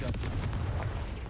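The Confringo explosive spell goes off in Hogwarts Legacy as a deep, close, heavy boom with a rumbling blast that fills the whole short moment, loud and dense in the low end.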